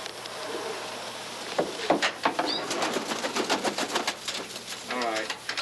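A pigeon that flies poorly, a show bird lacking tight feathers, flapping its wings in short close bursts of irregular fluttering, with someone talking and some cooing heard.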